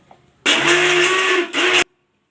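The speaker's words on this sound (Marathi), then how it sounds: "सगळ्या आधी खोबरं ग्राइंड करून घेते मिक्सरला" A kitchen mixer grinder grinds coconut in a loud, close burst of motor whir lasting about a second, stopping briefly, then running once more before cutting off, with no talking.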